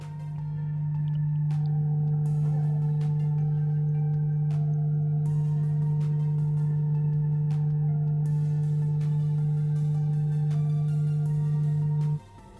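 A phone speaker-cleaner app plays its mode 1 tone on an Android phone, a steady loud low hum held for about twelve seconds before cutting off, with faint clicks and no talking.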